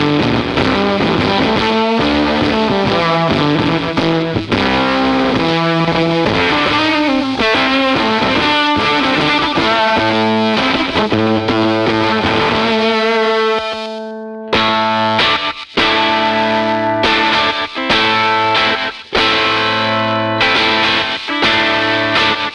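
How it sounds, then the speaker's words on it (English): Electric guitar run through an Embers overdrive pedal set to full fuzz, playing loud, continuous distorted chords and riffs for over twenty seconds with a brief drop near the middle. "But full fuzz, this is the sound that I have it set to use."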